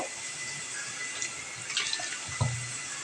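Water running from a tap to rinse a mixer grinder jar in a home kitchen, a steady close splashing stream with a few brief clunks and gurgles near the end, no talking.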